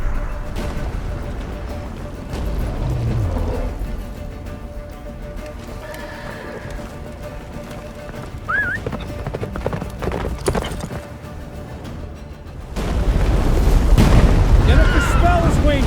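Roach the horse gallops in The Witcher 3 with rapid, loud clip-clopping hoofbeats and occasional neighs, mixed with deep booming effects and game voices. The sound swells louder near the end.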